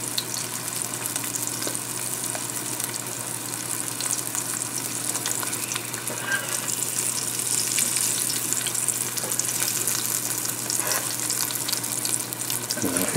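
Bronzino fillets pan-frying in a skillet, a continuous close, even sizzle with crackling spits that holds steady throughout with no talk over it.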